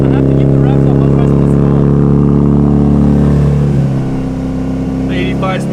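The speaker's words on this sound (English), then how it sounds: "I have to keep the revs up" An 85 car that would not start, push-started and now idling loud and rough, with the revs held up steadily so it stays running. The engine drones close and constant and eases slightly near the end.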